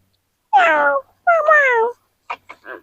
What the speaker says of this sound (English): That meow means keep him